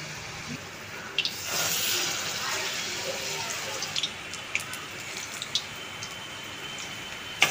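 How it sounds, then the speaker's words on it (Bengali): Coriander leaf fritters dipped in batter and frying in hot oil, a steady close hiss of bubbling with scattered sharp pops and crackles throughout, no talk. "সেগুলো একটা একটা করে চুবিয়ে আমি তেলের মধ্যে ছেড়ে দিলাম"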